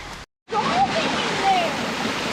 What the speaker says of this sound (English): Look at that big waterfall.